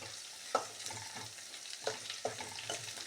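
Green mango gojju ingredients frying and being stirred in a pan: a soft continuous sizzle with a few distinct scraping or tapping stir strokes, close and fairly quiet, no voices.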